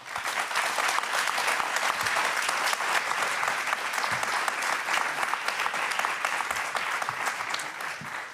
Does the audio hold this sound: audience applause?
yes